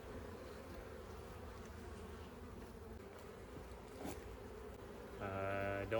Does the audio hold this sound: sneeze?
no